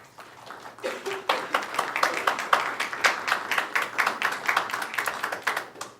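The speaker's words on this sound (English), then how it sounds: "A round of applause for our candidates." Audience at a Senate District 37 debate applauding the candidates, scattered claps that build into a brisk round of clapping from a modest crowd.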